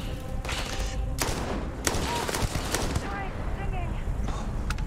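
Scattered gunfire and thuds in the Starfield video game, a handful of sharp shots and impacts over constant combat noise, with people talking through it.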